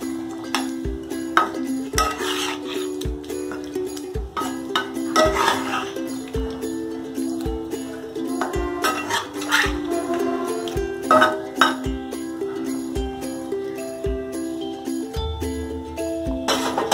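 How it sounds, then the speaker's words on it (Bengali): A utensil stirs beaten curd into pieces of katla fish cooking with onion in a pan, making regular metallic clinks and scrapes against the pan about once a second, close and clear. "দিয়ে খুব ভালো করে এবার মিশিয়ে দিতে হবে।"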